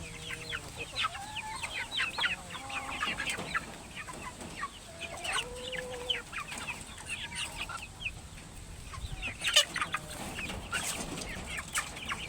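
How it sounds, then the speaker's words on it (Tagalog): Several chickens cluck and chatter in short, overlapping bursts while pecking at moringa leaves, a steady busy farmyard murmur with no talking. "Merienda time ng mga manok, malunggay."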